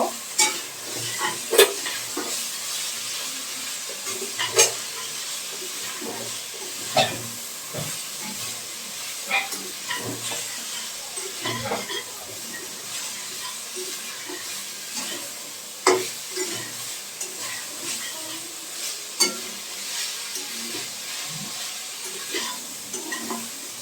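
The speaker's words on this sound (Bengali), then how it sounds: "ডাঁটাগুলো দিয়ে দেবো, দিয়ে মশলার সাথে একটু কষিয়ে নেব" Drumstick stalks frying with spices in a pan, a steady soft sizzle and hiss broken by repeated scrapes and knocks of a stirring spoon, close and moderately quiet, with no voices.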